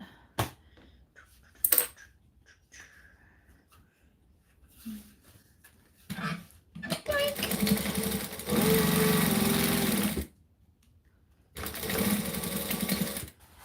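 A sewing machine stitching in short bursts, then a long steady run and a quick reverse backstitch, with gaps of quiet handling between; close and clear, no talking over it.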